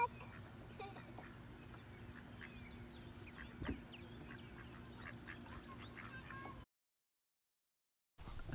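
Ducks on the water during a fishing trip, heard as faint, scattered quacks and calls over steady outdoor background noise, with a brief knock partway through and people talking nearby.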